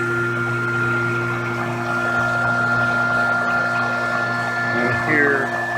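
Newly replaced pool pump running with a steady mechanical hum and whine, close and continuous, with a faint watery rush and a brief rising squeal near the end.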